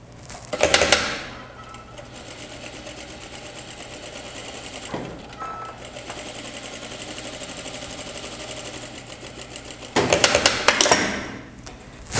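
A sewing machine stitches pant pockets in bursts: a loud run near the start, a short stab around five seconds, and another strong run near ten seconds, with a quieter hum between.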